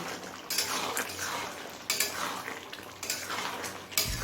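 A spoon scrapes and clinks against a pot as ground garam masala is mixed into jackfruit chicken curry, in a few distinct strokes with a soft background hiss.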